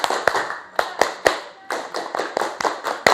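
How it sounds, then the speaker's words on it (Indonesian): An Indonesian scout rhythmic clap performed by a group, sharp claps in a quick patterned sequence with brief pauses, close and alone without talk. "Tepuk pramuka."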